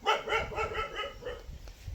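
A dog gives a rapid series of several barks and yips, moderately close but not loud, over a noisy outdoor background at a busy livestock market during the Pongal season.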